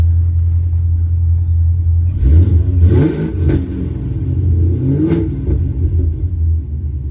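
A Cadillac CTS-V fitted with a Kong X-Port and long tube headers idles with a deep steady rumble, then revs sharply a few times with a rising supercharger whine, close and loud.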